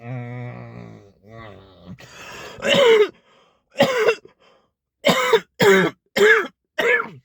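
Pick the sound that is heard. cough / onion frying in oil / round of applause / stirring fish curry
cough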